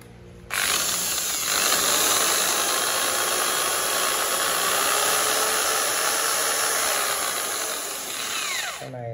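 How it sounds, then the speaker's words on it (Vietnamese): A small 220V electric drill switches on and runs at steady speed with a continuous high whine and motor hum, close and loud for about eight seconds before spinning down. "Số 8 là một con khoan con nữa nhá."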